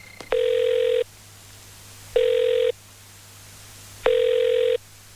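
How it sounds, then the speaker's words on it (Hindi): A telephone rings in three long electronic bursts, evenly spaced with short pauses between, loud and clear over a quiet low hum. "बजते रहो, उठाऊंगा ही नहीं।"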